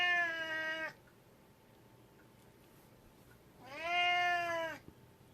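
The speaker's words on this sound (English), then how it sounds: "meowing up a storm in the background" A cat meows loudly in a quiet room while someone brush-inks a drawing: two long, drawn-out meows, one at the start and another a few seconds later, with near silence between them.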